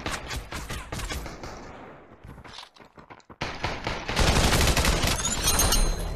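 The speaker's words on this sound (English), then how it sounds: "someone's shooting us from the right" Gunfire in the VR shooter Population: One, with rapid bursts of shots that drop to a brief lull before a loud, sustained volley of fire.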